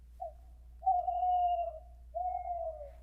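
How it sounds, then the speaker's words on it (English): An owl hoots three times, a short soft note followed by two long, clear, hollow hoots, alone against a quiet low hum. "Owls are found all over the world and are known for the hoot sound that they make."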